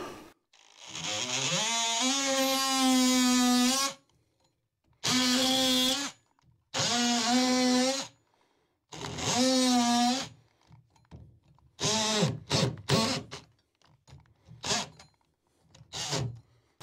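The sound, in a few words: oscillating multi-tool trimming a floor joist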